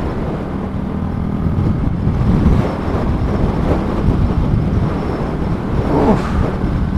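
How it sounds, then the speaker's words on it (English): Strong high wind buffets a rider on a small motorcycle in Lancaster County, Pennsylvania, a steady loud low roar of wind on the microphone lasting throughout, with gusty swells and no talk. "That wind is brutal!"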